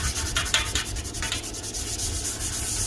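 Hand sanding on a small Farmall Super A tractor gas tank, a steady close abrasive rubbing with rhythmic strokes throughout, with no talk.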